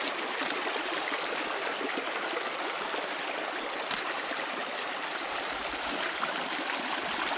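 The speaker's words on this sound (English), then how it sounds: "This is our first actual water crossing, and it looks like it shouldn't be too bad." A stream at a water crossing on a New Hampshire hiking trail flows with a steady, close, rushing and gurgling sound that never lets up and has no voices over it.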